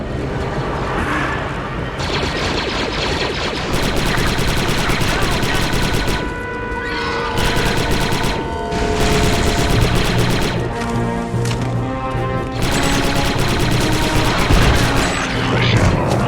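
Gunfire in the shooter game Star Wars Republic Commando, loud bursts of rapid blaster and machine-gun fire in repeated clusters with short pauses, mixed with game effects and a brief voice line.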